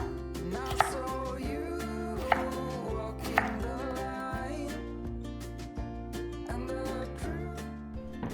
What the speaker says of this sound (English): So just cut up your potatoes into really small cubes.